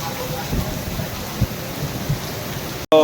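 Heavy unseasonal rain in Valsad district, a steady close wash of falling rain with a few soft thumps, cut off abruptly near the end.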